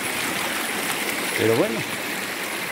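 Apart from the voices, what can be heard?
mountain stream of fresh water flowing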